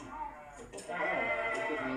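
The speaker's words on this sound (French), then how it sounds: "Comment il va ce mouton alors?" A sheep bleats in a drawn-out, wavering cry close by while it is being hand-sheared with scissors.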